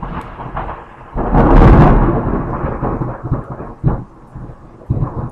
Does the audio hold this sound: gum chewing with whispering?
no